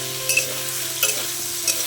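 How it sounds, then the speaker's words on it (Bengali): Young jackfruit frying in oil with salt and turmeric, a continuous close sizzle broken by three sharp scraping stirs of a spatula against the pan, evenly spaced. "এবার আমি ওই তেলের মধ্যে এঁচোড়টাকে দিয়ে ভালো করে ভেজে নেব।"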